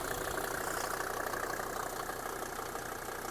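A 1991 Mercedes G-Class 250GD prototype, a Dutch military vehicle with a 200 hp OM605 turbo diesel and a mechanical injection pump, idles steadily nearby in a continuous, even rumble with a faint knocking texture and no voices.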